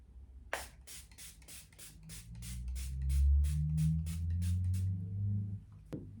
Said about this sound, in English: I'm going to spray again, setting spray.